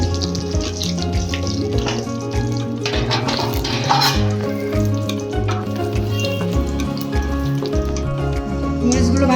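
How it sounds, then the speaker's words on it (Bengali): Green chillies frying in oil over low heat for a tilapia fish mash, giving a steady, dense sizzle with light clinks of a utensil stirring the pan, close and continuous throughout. "অল্প জালে ভাজতে হবে, মরিচটা পুড়ে না যায়"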